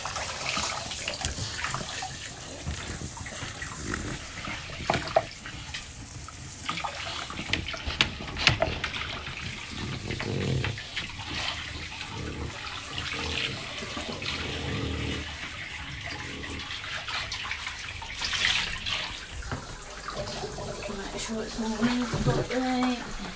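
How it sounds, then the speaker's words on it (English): Bath water runs and splashes in a tub while a French Bulldog is washed, with continuous gushing and sloshing throughout and voices talking over it at times. "get into the bath to bath the French Bulldog"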